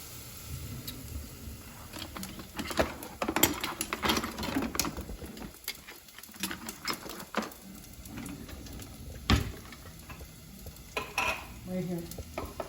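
Vegetables for minestrone are stirred in a hot pan, sizzling steadily while a utensil scrapes and clatters against the metal in irregular strokes, close and fairly quiet.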